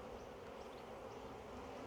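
Honey bees hum at an open hive during swarm season, a faint, continuous dense buzz with no pauses and no one speaking.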